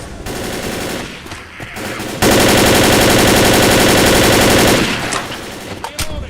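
Rapid M16 rifle fire in a zombie video game, first in short bursts, then a long loud continuous automatic stream lasting about two and a half seconds before trailing off into scattered shots.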